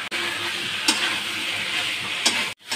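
Potatoes and fried cauliflower are stir-fried in spices for a fish curry, a steady close sizzle with a couple of brief scraping stirs of the spoon against the pan.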